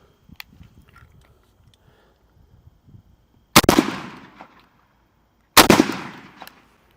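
Two loud shotgun blasts fired with Boss copper shotshells at 40 yards, spaced about two seconds apart, each a sharp crack followed by a short rolling echo, with quiet outdoor background between them.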